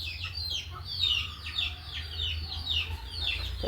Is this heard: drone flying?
no